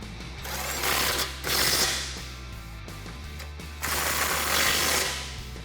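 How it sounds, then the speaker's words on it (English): A ratchet with a 16mm socket tightening bumper bolts on a Jeep Gladiator JT frame rail, giving two bursts of rapid close clicking with a short pause between them, with no one speaking. "you can go ahead and use a 16mm socket to tighten them up."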